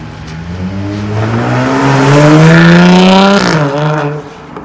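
A Jaguar sports car engine revs hard and loud, climbing in pitch over several seconds before dropping off, then settling into a lower rumble near the end.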